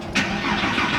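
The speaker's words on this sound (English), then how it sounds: "I want to start it for you because I want you to hear the regular sound of the car" A 2008 Porsche 911 Carrera 4S fires up, the engine and exhaust catching with a loud burst after a brief crank and settling into a steady, close rumble.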